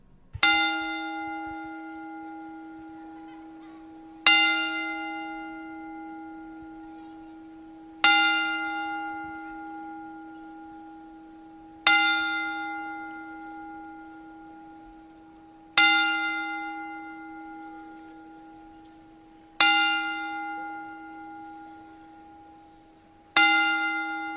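A ten-bell salute tribute: a single bell struck loudly at slow, even intervals of about four seconds, each strike ringing out and decaying before the next, with seven strikes heard.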